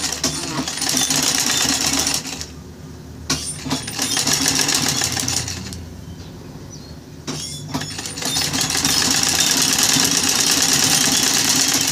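A sewing machine runs in bursts while stitching fabric scraps, a steady mechanical whir that pauses briefly twice and then continues, close and fairly loud with no talking.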